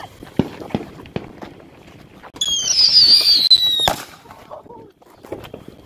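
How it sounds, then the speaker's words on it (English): July 4th fireworks go off outdoors: scattered sharp pops, then a shrill rising whistle for about a second and a half that ends in a crack, followed by a few quieter bursts. "What kind of fireworks are those? Those are weak."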